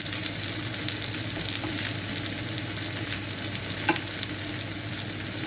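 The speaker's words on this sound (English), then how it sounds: "Just giving my beans a stir." Beans get stirred in a frying pan during a one-pan cooked breakfast, a soft scraping stir over a constant background sizzle of frying, with an occasional faint clink of the utensil.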